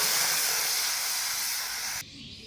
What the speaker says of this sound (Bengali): কড়াই গরম হয়ে গেছে, কড়াইয়ের মধ্যে দিয়ে দেবো আমি জল।